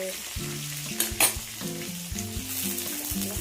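Steady crackling sizzle of spices and curry leaves tempering in hot oil for sambar, with a few clinks of a utensil against a pan.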